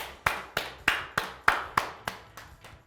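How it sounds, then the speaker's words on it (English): A single person claps slowly, about eight sharp hand claps in a steady rhythm, close and fairly quiet, with no crowd joining in. "Round of applause for Thorley, everyone."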